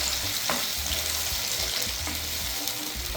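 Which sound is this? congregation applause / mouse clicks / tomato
tomato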